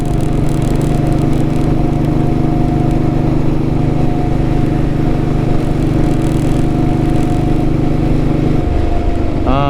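A vintage Royal Enfield Bullet motorcycle engine runs close and loud with a steady, throbbing thump that holds evenly, then shifts and stumbles near the end.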